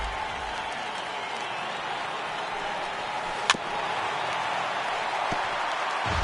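A large baseball video game crowd in Diamond Dynasty roars and cheers steadily throughout, a broad wash of applause that holds loud from start to finish, with one sharp crack partway through.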